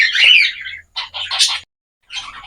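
Rainbow parakeets in an aviary give short, shrill chirps and squawks in a few separate bursts with brief silent gaps, close and fairly loud.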